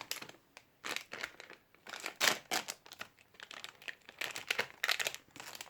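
Paper wrappers and blind-bag sachets crinkle and crunch in bursts as toy packets are unwrapped, close and fairly quiet, with short pauses between handfuls and no talking.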